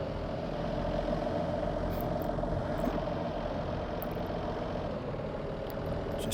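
Steady, loud droning engine rumble from catamaran engines running in reverse while docking into a marina slip with wind blowing out of the marina, continuous and unbroken with no talk.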